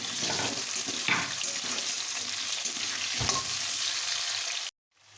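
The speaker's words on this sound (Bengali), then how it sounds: "আলুগুলো একটু ভাজা ভাজা হলে তার মধ্যে টমেটো কুচি দিয়ে দেবো।" Potatoes sizzle and fry in a pan with a steady, close crackle, broken by a few stirring scrapes before the sound cuts off abruptly near the end.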